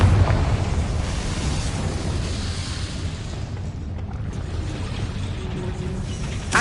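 Confringo fire spell blasts in the video game Hogwarts Legacy, a loud, dense rumbling roar of fiery explosion that stays heavy throughout with a sharper burst at the end.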